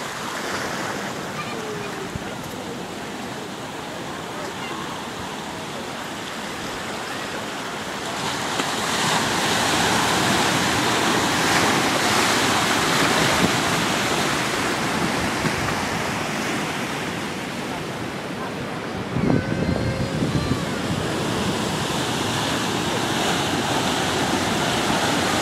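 Surf breaking on the small beach at Boucan Canot, a surf spot, heard from a roadside vantage: a steady broad wash of waves that swells louder midway, with wind buffeting the microphone.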